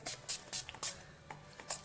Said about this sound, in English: this is our finishing spray, and it's going to set the makeup